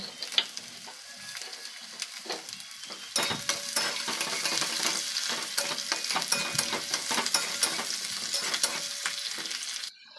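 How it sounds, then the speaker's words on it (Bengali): Onions and dried chillies fry in a pan with a steady, close sizzle and crackle. Scraping stirs and clinks recur throughout, and the frying grows louder after the first few seconds before cutting off abruptly at the end. "আমার পেঁয়াজ ভাজা হয়ে গেছে"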